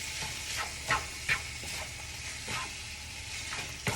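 Ground meat and onions browning in a hot pan give a steady low sizzle, broken by a few louder scraping stirs at irregular intervals, close by with no talk.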